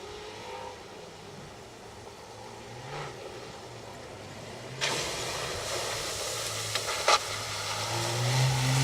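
A Ford Escort rally car on a rally stage, its engine droning at a distance, then growing louder with a sharp rise partway through and revving as it approaches.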